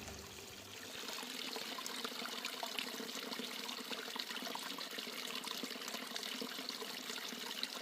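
Creek water on a forest trail in Idaho's Panhandle National Forest rushes and trickles steadily and close by, a continuous bright splashing that starts after a brief quieter moment.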